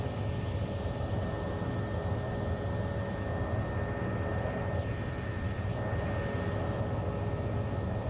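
Steady turboprop engine drone of a TBM900 taxiing in the X-Plane 11 flight simulator, a constant broadband roar with a faint tonal whine, even and unbroken throughout with no talking.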